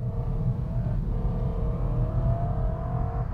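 A BMW M3 E90 with a V8 engine revving around 4,000 RPM, a deep, steady muscle-car growl with a rising whine, heard loud and alone without speech.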